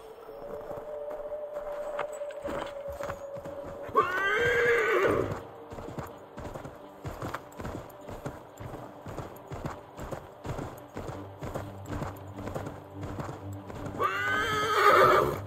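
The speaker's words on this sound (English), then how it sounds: "Take my horse!" A horse in the Assassin's Creed III video game trots with steady clip-clopping hooves throughout and gives two loud whinnies, one early and one at the end.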